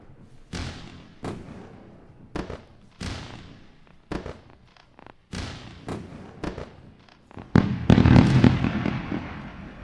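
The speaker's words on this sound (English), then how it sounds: "Let's go for another round of fireworks." Fireworks bursting in repeated sharp bangs, about a dozen loud reports in uneven rhythm, ending in a dense crackling barrage with rumbling booms.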